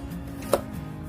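A kitchen knife strikes once through onion on a cutting board, a single crisp chop close by against a low steady background hum.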